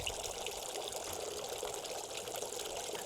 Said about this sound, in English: That's my fountain in the background.